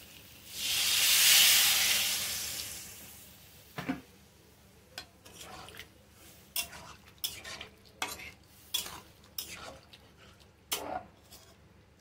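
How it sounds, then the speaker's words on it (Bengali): Water poured into a hot pan of soybean curry sends up a loud, rushing hiss that fades over a few seconds. Then comes a steady series of close spoon scrapes and clinks as the curry is stirred. "তো এবার আমি জলটা দিয়ে দিচ্ছি"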